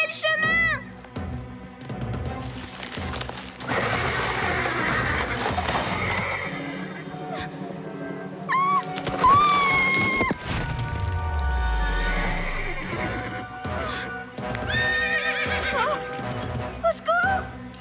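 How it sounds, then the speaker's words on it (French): Cartoon horse whinnying in several sharp, pitched bursts over rhythmic clip-clopping hooves, with a crash and a falling swoop midway, music and voices around it. "Je déteste les chevaux."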